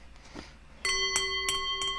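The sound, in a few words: bell ringing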